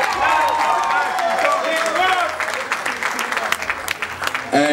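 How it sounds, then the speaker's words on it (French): A concert crowd at a show applauds and cheers, a thick, sustained wash of clapping and crowd noise mixed with voices. "applaudissez pour les génies"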